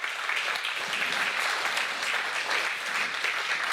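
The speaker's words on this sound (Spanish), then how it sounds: "dele palmas al Señor" A church congregation claps for the Lord during a Bible study on Romans: dense, even applause from many hands, held steady for several seconds at moderate distance with no talking.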